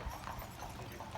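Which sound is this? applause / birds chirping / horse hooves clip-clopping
horse hooves clip-clopping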